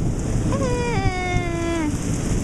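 Heavy rain pours steadily during a thunderstorm, a dense constant wash of noise over a pool, with a rising and falling tonal whine sweeping across it for about a second and a half.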